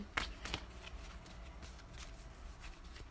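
Tarot cards are shuffled by hand close by, with a couple of sharp riffling bursts at the start followed by a softer, continuous papery shuffling.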